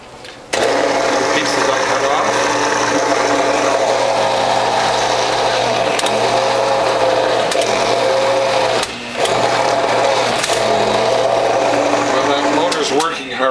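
A Whole Health Foundation juicer motor strains loudly and continuously as it grinds fibrous beet tops, with a brief dip in the whirring partway through before it picks up again.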